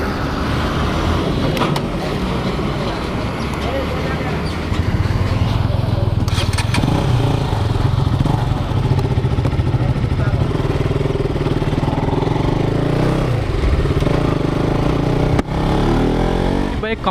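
A motorcycle on a weekend ride rumbles steadily close by with a loud, continuous engine drone and rushing wind, rising slightly partway through, while someone talks over it.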